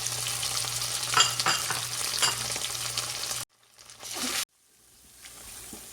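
Masala of ginger garlic paste, onion, garam masala and chili powder frying with tomato paste for shahi paneer, loud sizzling with stirring scrapes, briefly cut off, then a quieter sizzle resumes.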